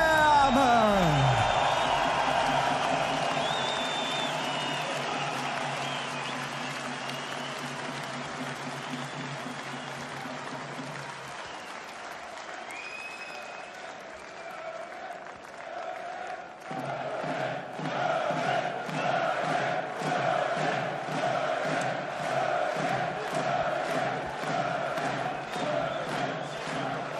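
A boxing arena crowd roars and chants for German WBA light heavyweight champion Juergen Braehmer, a sustained dense wall of cheering that dips midway then swells back into rhythmic, pulsing chants.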